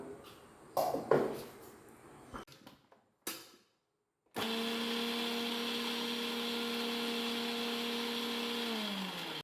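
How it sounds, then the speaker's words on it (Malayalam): Beetroot pieces are ground in a mixer grinder jar. A few scattered clatters of handling and a short quiet gap come first, then the motor starts and holds a loud, steady whine to the end. "അതൊന്ന് ഒരു മിക്സി ജാറിലിട്ടിട്ട് അതൊന്ന് അരച്ചെടുക്കാൻ പോവാണ്"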